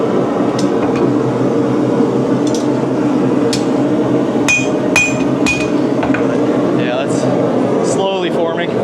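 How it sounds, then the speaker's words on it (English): Metal hammer strikes on an anvil while forging a knife blade, a handful of sharp ringing clangs spaced irregularly over a constant loud background hum, with people talking nearby. "you're using the hammer less than you're using the anvil"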